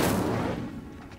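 A loud whooshing burst of flame from the Incendio fire spell in Hogwarts Legacy roars up at once. It fades quickly over about a second.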